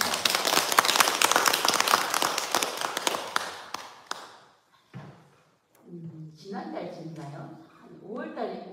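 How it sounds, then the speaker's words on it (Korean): Audience applause at a Sunday Buddhist temple service, a burst of many hands clapping for about four seconds that quickly dies away, followed by a voice speaking. "우리 박수를 쳐주셔야 돼요"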